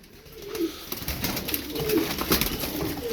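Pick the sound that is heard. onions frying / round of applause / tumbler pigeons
tumbler pigeons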